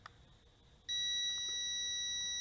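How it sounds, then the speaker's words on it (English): An Eachine E58 RC drone emits a sustained high-pitched electronic beep that starts abruptly and holds continuously, loud and steady, after a quieter faint tone. "it beeps continuously until you redirect it with the pitch or the roll stick here"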